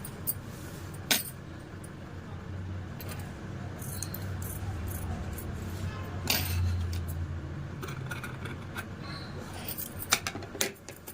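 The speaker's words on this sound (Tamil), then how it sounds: "இப்போ வந்து நம்ம ஃப்ரண்ட் நெக்கை வந்து கட் பண்ணலாம்" Scissors cut the front neck of blouse fabric: sporadic crisp snips and metallic clicks stand out over a quiet room background, spaced irregularly across the stretch.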